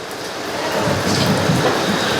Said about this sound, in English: It means the world to us, even though it is a little wet and rainy out.